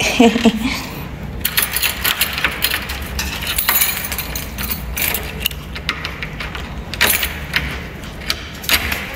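A set of keys jingles and clinks in irregular bursts through a room in Baguio City, with soft background noise between the metallic rattles.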